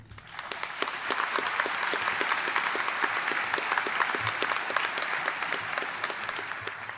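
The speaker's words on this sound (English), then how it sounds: "I would like for all of us to at least give him an applause." Audience applause at an award ceremony welcoming first-year students: a continuous wash of many hands clapping for about seven seconds, even and moderately loud with no voices over it.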